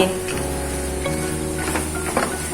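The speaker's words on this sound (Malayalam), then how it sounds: "അപ്പോൾ ഒരു 10 മിനിറ്റ് കൂടി നമുക്കിത് ഇളക്കി കൊടുക്കാം" Soya chunks stir-frying in ghee in a pan: a steady close sizzle with scraping stir strokes running throughout, over a faint tonal background.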